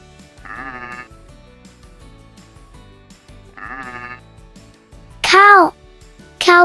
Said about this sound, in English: Sheep gives us wool.